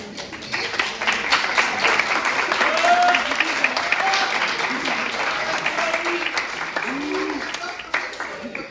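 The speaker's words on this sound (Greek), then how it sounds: "Τώρα θέλουμε χειροκρότημα του διευθυντή." An audience at a school presentation of the year's activities applauds the principal, a sustained wash of clapping from many hands that holds steady for several seconds, with some voices faintly mixed in.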